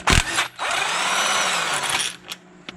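An impact wrench hammers loose the crank pulley bolt on a Toyota 1MZ-FE V6: a short sharp burst, a brief pause, then a sustained loud rattling whir of over a second, followed by a few faint clicks.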